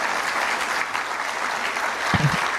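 An audience claps in a steady, dense wash of applause throughout, with a brief low thump near the end.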